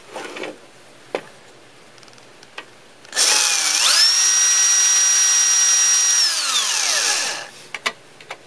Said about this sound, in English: I'll have to get a screwdriver.